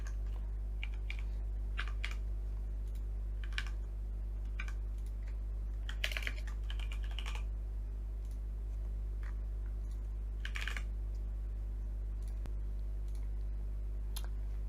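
Computer keyboard typing at close range as a checkout form is filled in, irregular bursts of key clicks over a low steady electrical hum, no talking.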